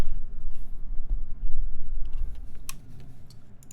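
Clicky keystrokes on a custom mechanical keyboard with a polycarbonate TGR Alice case and dyed blank keycaps, a steady close patter of key presses in a quiet room with no talking.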